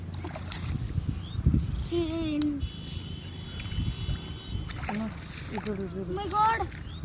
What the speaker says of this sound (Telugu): నేను ఇప్పుడు దీంట్లో కాలు వాష్ చేసుకుంటున్నాను